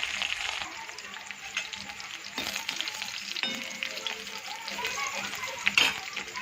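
Garlic cloves, curry leaves and green chilies fry in hot oil with a steady crackling sizzle, and a few sharp clinks and stirring scrapes break through near the end. No one speaks.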